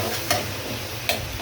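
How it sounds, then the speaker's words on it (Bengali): Something browning in hot oil in a home kitchen pan hisses with a steady sizzle, and two quick scrapes of a spoon stirring it stand out, close and clear. "এভাবে নেড়ে চেড়ে ব্রাউন কালার করে নিতে হবে।"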